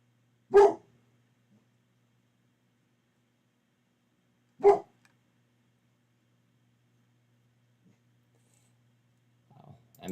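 A dog barks in two sharp, isolated bursts about four seconds apart, fairly close and loud against an otherwise quiet room, with a faint shuffle near the end.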